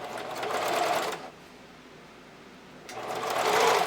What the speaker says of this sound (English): I'm stitching so that the stitching line is going right along this lower edge of the strap elastic